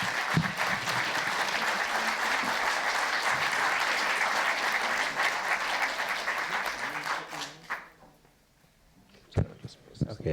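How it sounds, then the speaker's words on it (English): An audience applauds warmly for an author and an artist at a book club event on a Japanese American history book, a dense, steady ovation lasting about seven seconds before tapering off, followed by scattered handling noises and brief talk. "ask for a round warm of applause for the author and artist behind Secret Harvest, Mas Masumoto and Patricia Wakida"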